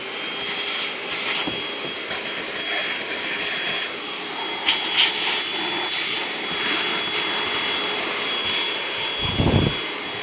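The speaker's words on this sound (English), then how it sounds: "Grab our Milwaukee vacuum cleaner." A loud, steady high-pitched whir of a Milwaukee cordless handheld vacuum runs continuously, with a few brief thumps and bumps near the end.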